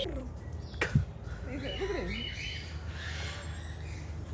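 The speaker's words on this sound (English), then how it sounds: "I got some pigeons getting their game on." Pigeons coo and call near a campsite on a South African safari, a few soft rolling calls in the middle distance over a low outdoor hum.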